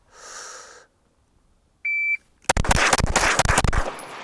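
After a short beep of a shot timer, six rapid pistol shots crack out in a tight, even burst during a one-handed Bill Drill at a shooting range, loud and close with no talk.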